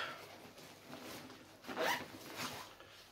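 Zipper on a bag's side pocket being pulled open in a close, quiet rasp, rising into a brief louder zip near the end.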